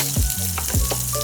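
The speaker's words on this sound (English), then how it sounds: "I chop up my butter, and I'll throw that into the pot to melt." Chopped butter melts in a pot and sizzles steadily, with a continuous close frying crackle and brief stirring or scraping bursts over the whole stretch.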